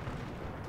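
Torpedo hits exploding on a warship in the naval combat game World of Warships, a rumbling low boom that holds steady and loud through the whole short moment, with no voices.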